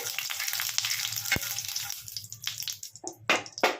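Chopped garlic and grated ginger hit hot oil in a wok, giving a bright, close crackling sizzle that thins out, then breaks into sharper spits and a few scraping stirs toward the end.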